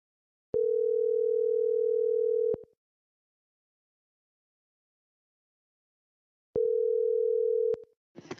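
A telephone tone sounds after a call is cut off, a flat steady tone heard in two separate bursts of about two and one seconds with silence between, followed by a brief faint noise at the end.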